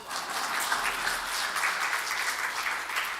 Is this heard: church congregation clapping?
yes